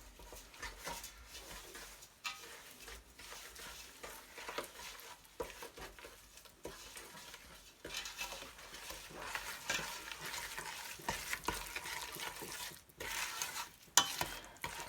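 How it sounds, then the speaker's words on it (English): A spoon stirs 250 grams of sugar into a cheesecake mixture in a bowl, giving soft, continuous scraping and swishing strokes that come through close and fairly quiet, with no talking. "250 grams of sugar. And we stir this a little."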